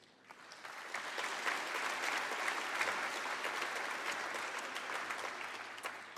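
A Labour Party conference crowd applauds at a moderate distance, dense steady clapping swelling in and holding for several seconds without a break.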